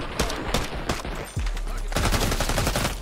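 Rapid gunfire in a Warzone match, bursts of sharp close shots in quick succession, a short pause, then a sustained loud volley of automatic fire.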